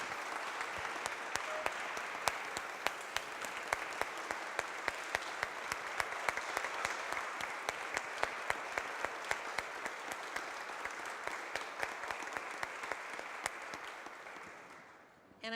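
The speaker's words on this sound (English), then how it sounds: "I would like to see a round of applause for all the work that Christy has done" An audience applauds steadily for about fifteen seconds, a dense wash of clapping that tapers off at the end.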